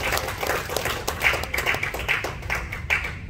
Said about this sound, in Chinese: 我们也给这个颁奖典礼一个鼓励的掌声